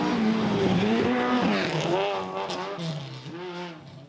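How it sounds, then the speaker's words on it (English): A Honda Civic rally car in a two-wheel-drive class of a New Zealand Rally Championship round in the Bay of Plenty, its engine note climbing and falling through gear changes as it passes close and loud, then fades slightly. "This is his trusty Honda Civic, a car which has been running on and off in the championship"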